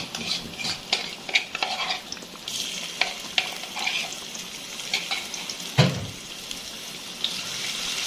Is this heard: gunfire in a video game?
no